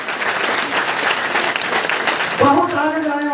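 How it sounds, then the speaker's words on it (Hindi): A room full of people at a village meeting applauds couples in attendance, a dense burst of clapping that runs the whole time, with a voice cutting in near the end. "इन लोग के लिए जबरदस्त ताली होना चाहिए"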